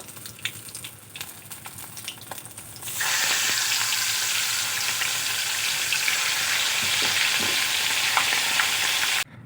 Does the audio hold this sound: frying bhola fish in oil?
yes